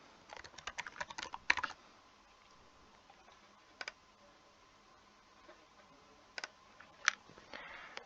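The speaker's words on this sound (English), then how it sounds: "Now you need to come up with a password. It needs to be 8 characters long." Keys clatter on a computer keyboard as a password is typed, with a quick burst of close clicks, then a pause broken by a few isolated keystrokes.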